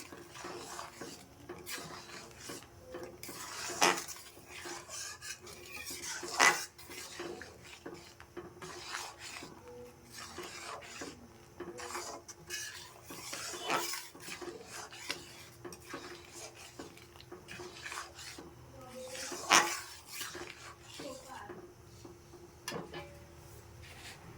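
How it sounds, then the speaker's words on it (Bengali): A spoon scrapes and clinks against a pot while jaggery is stirred into a mixture, with soft rubbing strokes and a few louder knocks against the pot's rim spread across the stretch, no voices. "যতক্ষণ না আমার গুড়টা ভালো করে মিশে যাচ্ছে ততক্ষণ কিন্তু আমি ভালো করে একটা নাড়িয়ে দেবো"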